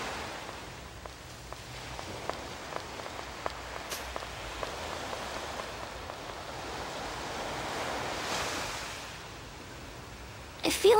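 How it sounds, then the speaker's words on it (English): Ocean waves wash in a steady, soft roar in the video game Tales of Legendia, swelling gently and then fading, with no voices over them. "Are those waves?"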